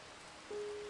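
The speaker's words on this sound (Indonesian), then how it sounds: "Tiba sore, langit sedikit mendung, lalu turun hujan." Steady rain falling on taro leaves and ground, heard as a soft, even hiss of drops that swells a little halfway through, with no voices.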